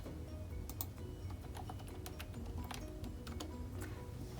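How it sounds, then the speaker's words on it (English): Someone types a school district name into an online free and reduced meal application on a computer keyboard. The key clicks are faint and irregular over a low, steady room hum. "The first thing you'll do on the Titan meal application is type in the school district."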